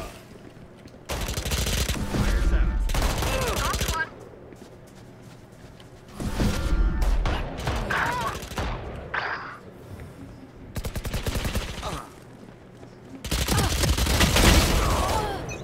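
Fully automatic gunfire in the Valorant video game comes in several loud sustained bursts of a few seconds each, separated by quieter gaps.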